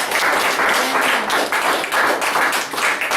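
Church congregation breaking into sustained applause in acclamation during a French-language sermon, a dense steady wash of many hands clapping close by with no speech over it.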